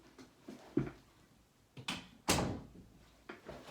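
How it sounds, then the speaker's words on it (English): An indoor door is pushed shut, giving a few soft bumps and then one louder thud with a brief rattle, followed by some quieter knocks close by. "Had to close the door."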